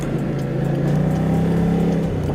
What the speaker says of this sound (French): Et voilà, l'accélération, ça pousse.